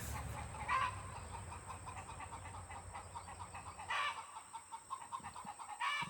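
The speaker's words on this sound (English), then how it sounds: "And my chickens when they lay eggs." Hens cluck and squawk in a farmyard after laying eggs, with a few louder bursts of excited calls standing out against a steady background of birds.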